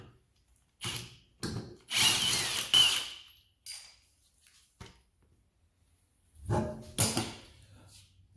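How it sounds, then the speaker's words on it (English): Snap-on 1/2-inch brushless cordless impact wrench, white, used on a GS300 rear suspension job, firing in several short bursts with one longer hammering run near the start and another toward the end, close and fairly loud, with quiet gaps between. "It's a Snap-on 1/2-inch brushless impact wrench"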